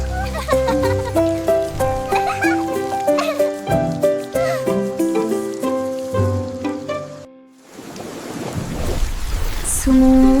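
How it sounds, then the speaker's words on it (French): A rain effect in a French children's song arrives after a bouncy melody stops: a broad, hissing downpour swells over the last few seconds, ending in a low rumble that suggests thunder. "nous avons regardé les gouttes de pluie tomber du ciel"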